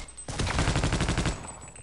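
Rapid automatic gunfire from a weapon in Half-Life: Opposing Force, a single sustained burst of evenly spaced shots about a second long, loud and close, with no talking.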